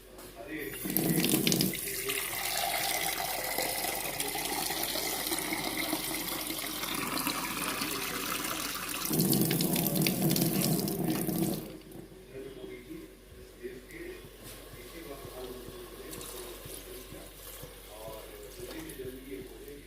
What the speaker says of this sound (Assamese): তাৰপিছত এতিয়া ইয়াৰ এই পানীখিনি দি দিম আৰু অলপ পানী আনি পেলাই এডোপাৰ দি দিম